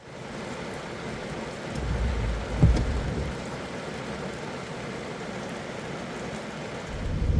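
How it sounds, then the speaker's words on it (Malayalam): Heavy rain pours down in a dense, steady roar, with a low rumble swelling briefly partway through. "പക്ഷേ ഭയങ്കര മഴ എന്ന് പറഞ്ഞാൽ ഒരു രക്ഷയില്ല"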